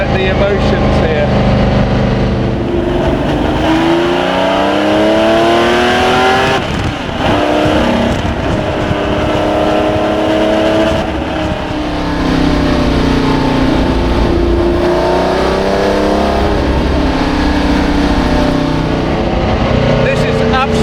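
The engine of the Jaguar XJ13 race car roars loudly and continuously, its pitch climbing and dropping through gear changes as it accelerates, with a voice talking over it.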